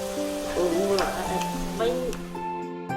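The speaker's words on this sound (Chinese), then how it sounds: "糖果果搓成小圆子，油炸到浮起。" Steady oil sizzle of sweet dough balls deep frying until they float fills the clip, with a voice speaking and music-like tones over it.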